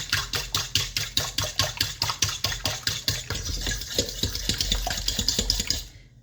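White sugar is mixed in a bowl with quick, regular scraping strokes that repeat at a steady rhythm, close and fairly loud, before stopping abruptly.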